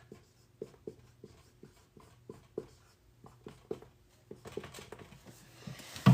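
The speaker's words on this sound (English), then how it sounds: "I'm just going to write it." A pen writes by hand on paper in short, rhythmic scratchy strokes, near and quiet, with a louder rustle and handling noise toward the end.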